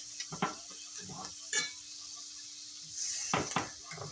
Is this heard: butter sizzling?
yes